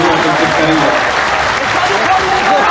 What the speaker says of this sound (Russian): Под ваши аплодисменты в этот торжественный день